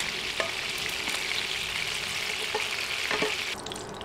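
Chicken pieces fry lightly in hot oil, a steady close sizzle with occasional clinks and scrapes of turning the meat, and a slight drop in intensity near the end, no speech.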